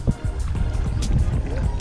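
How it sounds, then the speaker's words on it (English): Reverse side paddle strokes on a BOTE Low Rider paddleboard out on open water, with repeated splashy water pulls and wind buffeting the microphone throughout. "now we're just gonna do some reverse side paddles"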